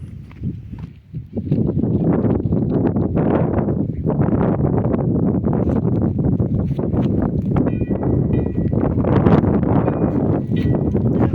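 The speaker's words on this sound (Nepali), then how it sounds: "अहिले चाहिँ यस्तो मजाले हावा चलेको छ।" Steady outdoor wind blowing across the microphone in the hills of Kanyam, Ilam, Nepal, with rumbling gusts and some thumping movement, continuous for the whole stretch.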